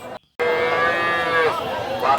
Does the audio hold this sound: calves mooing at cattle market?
yes